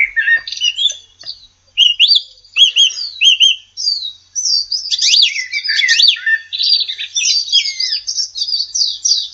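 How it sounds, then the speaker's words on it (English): Birds chirping and tweeting in a natural outdoor setting, a busy overlapping mix of high, quick calls and trills that runs steadily and fairly loud without any talk. "In the background, I have some nature sounds, just kind of so it's not dead air."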